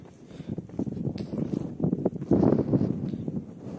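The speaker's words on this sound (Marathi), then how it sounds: "वरती बघू शकता वाऱ्याचा वेग खूप आहे." Strong wind at a hill fort buffets the microphone in a continuous, uneven low rumble that swells louder partway through.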